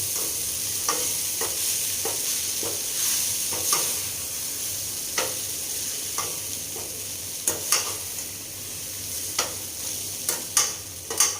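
Poha being stirred in a pan, a steady sizzle and fry running throughout with repeated sharp scraping taps of the spoon against the pan, close and fairly loud, no talking.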